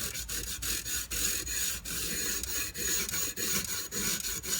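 Rhythmic back-and-forth rubbing on a Craftsman toolbox, close and scratchy, with a steady stroke roughly every third of a second and no voices.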